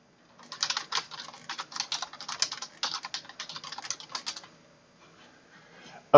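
Rapid typing on a computer keyboard, a dense run of crisp key clicks for about four seconds, fairly close and alone, then a pause and a sudden louder knock at the end.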